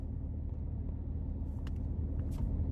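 Steady low engine rumble and road noise from inside a moving Camaro, continuous and fairly quiet, with a few faint higher clicks near the end.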